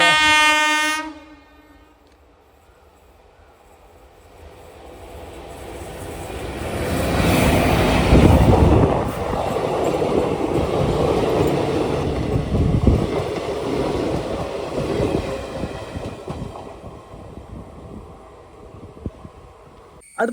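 The Eranad Express sounds a long, loud horn blast as it approaches on a curving line near Vadakara, then passes close by with a sustained rumble and clatter of wheels that slowly fades.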